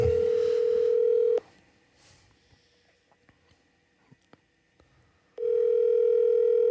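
A steady telephone ringback tone sounds loud and close, pauses for about four seconds of near silence with faint clicks, then resumes as a call is placed.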